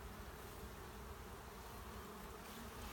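Honey bees hum at a calm hive in a steady, even drone that stays faint throughout without breaks.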